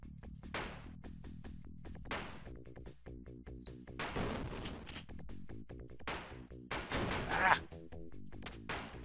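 Shotgun fire in the video game True Lies, several sharp booming blasts at irregular intervals over chunky retro game music.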